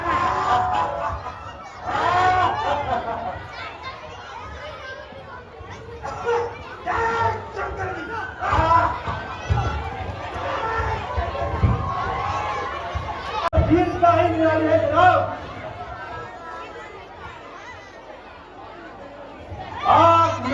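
A dense crowd of adults and children chatters and murmurs at an evening Ramlila performance, voices overlapping steadily throughout with occasional louder shouts rising above the general hubbub.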